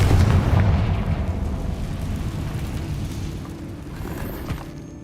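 Confringo spell explosions in the Hogwarts Legacy video game, a loud deep rumbling blast that rolls on and slowly fades over several seconds.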